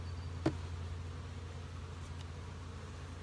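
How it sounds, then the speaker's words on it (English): A honey bee buzzes close to a beekeeper working an open hive with a honey super, a faint, steady hum with a brief louder moment near the start. "there's a bee on my belly."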